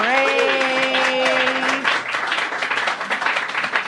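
Steady studio audience applause greets Jared Padalecki on a talk show, full crowd clapping that holds throughout, with a voice calling out over the start.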